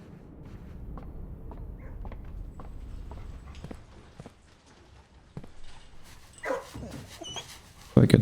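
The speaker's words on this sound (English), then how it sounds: "Where's this dog?" A dog in the video game Blue Prince, heard as a few faint scattered bark-like yelps and patters over a quiet ambient background, with a louder burst near the end.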